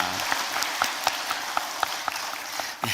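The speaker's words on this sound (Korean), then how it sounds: "다시 한 번 더 찬양의 하모니를 이루어 주신 우리 할렐루야 찬양대에게 크게 박수해 주시면 감사하겠습니다." A church congregation claps for the Hallelujah choir after a hymn at a Sunday service, with scattered individual claps standing out against a softer wash of applause for about three seconds.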